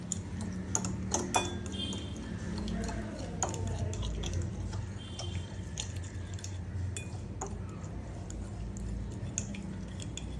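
Spatula stirring Maggi masala in hot coconut oil in a pan, scraping and clicking against the metal in irregular strokes with soft sizzling beneath.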